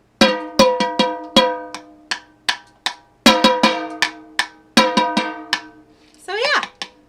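The metal bottom of a coffee can is struck again and again in a lively, uneven rhythm, each bright, clanking hit decaying quickly, with a short different scraping or vocal sound at the end.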